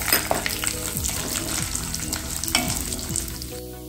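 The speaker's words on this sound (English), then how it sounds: "Keep the flame in medium and fry them until the dal and the methi seeds turn golden brown" Methi seeds, urad dal and chana dal frying in a pan over a medium flame, a bright continuous sizzle with light scraping stirs and occasional clinks, close and without voices.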